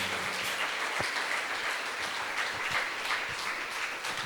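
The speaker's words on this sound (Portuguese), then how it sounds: "Vamos aplaudir ao Senhor" A church congregation applauds steadily at an evening worship service, producing a dense, sustained wash of clapping from many hands that fills the room at a moderate level.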